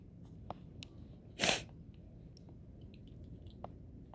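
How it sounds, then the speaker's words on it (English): A single short, sharp sneeze bursts out midway through an otherwise quiet indoor stretch with faint scattered small noises and no talking. "Sorry, I sneezed and now my nose is running."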